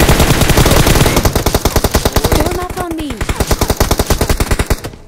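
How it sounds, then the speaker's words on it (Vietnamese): Rapid automatic gunfire in PUBG Mobile, loud and close, a steady rattling burst of many shots that pauses briefly, then resumes in a second run while a voice speaks over it. "Bắn nè"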